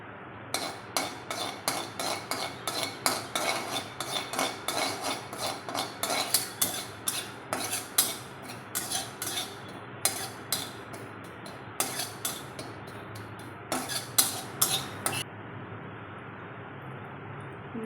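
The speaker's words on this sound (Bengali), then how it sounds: "এবার কড়াইতে আমরা রাঁধুনি আর মেথি পাতা দিয়ে কাঠকড়ায় নেড়ে দেবো।" Wooden spatula scraping and knocking in a pan while radhuni seeds and fenugreek leaves are stirred for masala paneer, a steady run of close, sharp scrapes and clacks in quick irregular rhythm over a low background hiss.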